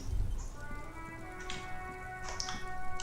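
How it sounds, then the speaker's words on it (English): Rain falling in the game Disco Elysium, soft scattered droplet taps over a quiet bed, with faint tonal music lines running underneath. "All around you, rain falls"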